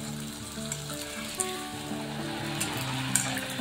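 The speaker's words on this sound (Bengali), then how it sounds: "এইভাবে আমি একে একে ফুচকাগুলোকে ভেজে নেব" Fuchka (pani puri) puffs fry in hot oil over high flame, five at a time, with a continuous close sizzle and occasional sharper pops over a faint tonal hum.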